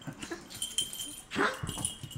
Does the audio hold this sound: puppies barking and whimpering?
yes